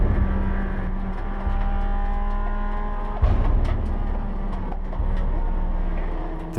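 A Honda GT race car circles a track, its engine droning steadily with gear changes and a sharp jolt partway through as it is struck from behind by a Mercedes SLS.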